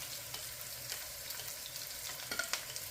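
Chinese sausage and fish cake fry together in a pan, a steady soft sizzle with a few sharper crackles and pops near the end, fairly quiet and without talk.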